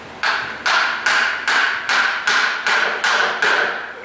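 Hammer taps on a Honda Civic CV axle, eight sharp, evenly spaced metallic strikes about half a second apart, close and loud with no talking.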